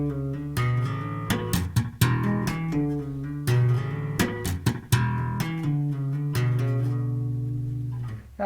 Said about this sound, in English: you're playing 2 harmonics, a harmonic chord essentially, and then you're slapping and then you're tapping